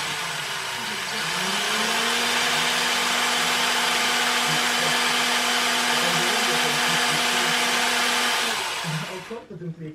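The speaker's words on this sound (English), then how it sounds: "I'm just drilling at different angles here" A drill bores into the plastic lid of an RD350LC brake master cylinder, a steady loud whine holding nearly ten seconds at a constant pitch before winding down.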